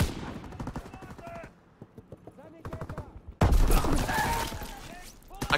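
Gunfire in Call of Duty WWII comes in bursts of sharp shots, heavy at the start, sparse in the middle, then a loud dense barrage at the end, with a voice talking over parts of it.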